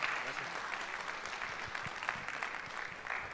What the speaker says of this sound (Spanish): Fuertes aplausos, por favor.